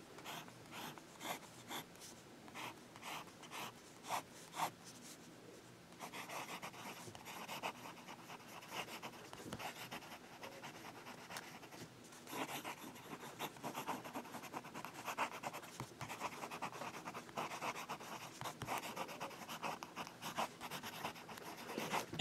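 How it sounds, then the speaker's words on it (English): Lamy Aion fountain pen with a smooth nib writing fast on paper, a continuous close scratching and rubbing with rapid stroke rhythm, quiet and alone. "And that's some fast writing."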